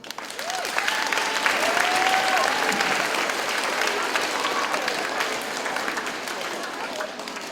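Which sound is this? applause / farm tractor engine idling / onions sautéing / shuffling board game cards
applause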